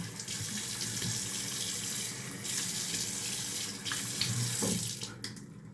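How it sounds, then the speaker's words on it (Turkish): Cold tap water runs steadily into a sink while a face is splashed and washed after a razor shave, a close continuous rush with brief splashing changes near the end. "Bir daha yüzümü soğuk suyla yıkamak istiyorum."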